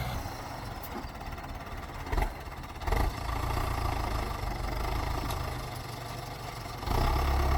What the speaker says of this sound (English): Very common tractor in Russia. I think I can say the most common tractor.